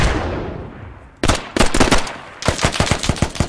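Close, loud automatic gunfire in the military shooter game Squad comes in several rapid bursts after a short stretch of quiet background noise.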